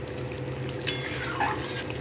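Paneer in spiced masala for a vegetarian kasha is stirred in a pan, with a steady low sizzle and a couple of brief scraping clinks near the middle.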